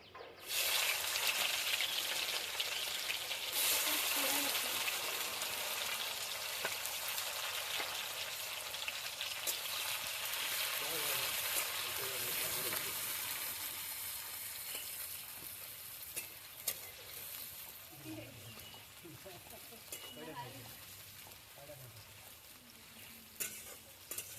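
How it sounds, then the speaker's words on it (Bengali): Chopped onion and tomato fry in oil with cumin for a chicken heart curry, a soft continuous sizzle with occasional stirring scrapes, faint and close, with no talking. "পেঁয়াজ আর টমেটোটা হালকা ভাজা হোক তারপরে অন্য মশলাগুলো দিয়ে দেবো"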